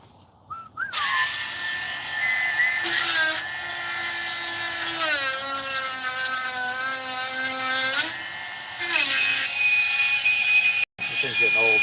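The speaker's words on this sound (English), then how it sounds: "It's time to sharpen this chain." A worn chainsaw chain being sharpened with a file, giving a continuous loud grinding, whining rasp with steady harmonic tones that shift in pitch, running almost without pause and breaking off briefly near the end.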